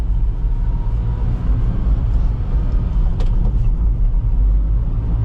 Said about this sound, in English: This thing is so easy to drive.